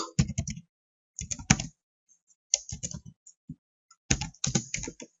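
A value typed on a computer keyboard in short clustered bursts of crisp key clicks separated by silent pauses, close and clear with no talking.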